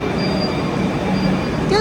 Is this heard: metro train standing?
yes